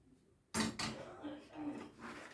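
A spoon clanks into a pot of pudding and scrapes around it, a sharp metallic knock followed by softer rhythmic scraping, close by, with a voice speaking over it.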